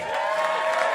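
A comedy club audience at Gotham Comedy Club breaks into applause and cheering, a brief dense burst of clapping and crowd noise sustained at steady loudness.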